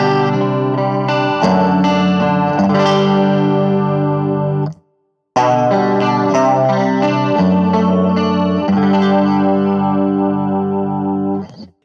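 Electric guitar runs through a cheap chorus pedal under $100, strummed chords and picked notes with a shimmering, wavering tone, loud and close, pausing briefly before resuming.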